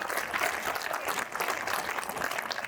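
A crowd claps at a Hindi comic poetry parody performance, a moderately loud, continuous patter of many hands with no talk over it.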